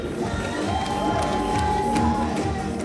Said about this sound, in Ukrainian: Мы начинаем под ваши аплодисменты.